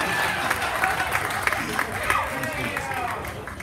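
Applause and cheering from a crowd at a pun-slinging competition for two best-dressed contestants, with clapping mixed with crowd chatter and voices throughout.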